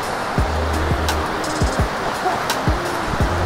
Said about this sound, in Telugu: అండ్ వాటర్ ఫాల్స్ అయితే చాలా బాగుంది, ప్లెజెంట్గా.